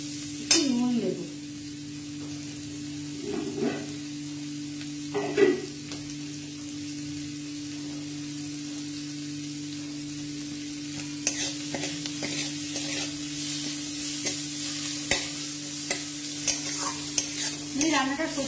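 An omelette fries in mustard oil with a steady, soft sizzle, broken now and then by a few brief scraping stirs of a utensil in the pan.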